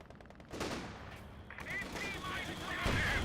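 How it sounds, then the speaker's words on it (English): Artillery and tank cannon fire in the World War II strategy game Company of Heroes 2, heard as rapid, repeated gunfire and booming shots at moderate loudness with a voice talking over the battle. "Artillery officer firing away. Panther putting some rounds into the structure."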